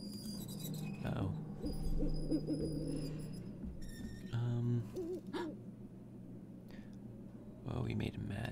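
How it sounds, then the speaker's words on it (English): Owl hooting in the video game Syberia 2, a few low tonal hoots rising from a quiet in-game backdrop, with a player talking softly around them. "It's making an owl noise."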